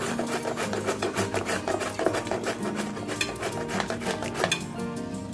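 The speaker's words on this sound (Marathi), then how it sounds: "इथे मी ह्या किसणीने गाजर किसून घेणार आहे" A carrot rubbed against a hand grater close up, giving quick repeated raspy scraping strokes in an uneven rhythm, with faint clinks of the metal grater.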